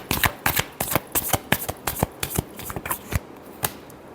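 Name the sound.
shuffling tarot cards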